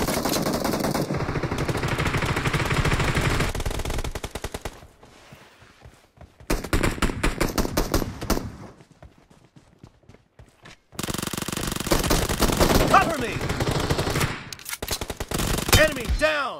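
Bursts of automatic machine gun fire ring out in the BGMI battle royale game, loud rapid volleys broken by short quieter gaps, with game voice callouts mixed in.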